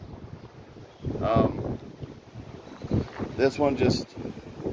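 Strong wind gusts outdoors during a carburetor replacement on a split-shaft Echo string trimmer, rumbling low and steady behind someone talking close to the microphone.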